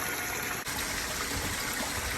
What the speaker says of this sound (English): We got water going. Trommel is flowing. A good water flow.